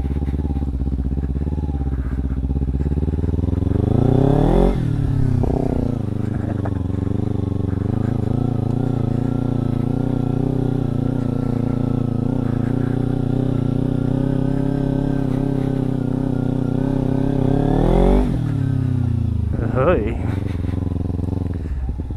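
A Ninja 300 motorcycle ridden off road, its engine droning loud and close with rising revs and two sharp throttle surges, wind and clatter over the steady tone.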